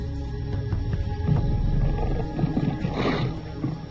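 A lion in African wild dog territory gives low, rumbling roar-like growls in the wild, fairly close and sustained, against ambient outdoor noise with no talking.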